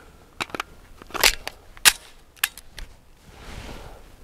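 Close, sharp reports from a Walther P99 AS Final Edition pistol firing Federal 150 grain Action Pistol gamer loads with red synthetic jackets, several loud shots spaced about half a second apart, with fainter clanks between and brief rustling at the end.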